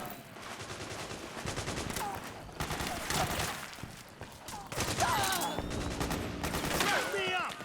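Suppressing gunfire from a Metal Gear Solid 4 battle bursts in repeated rapid volleys with mechanical clatter, loud and dense, while soldiers shout over the shooting.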